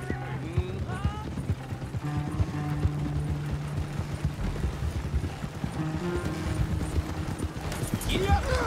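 Horse hooves clip-clop steadily in the Red Dead Redemption 2 video game, a continuous rhythmic trot mixed with wagon rattle and game music, while voices talk over it.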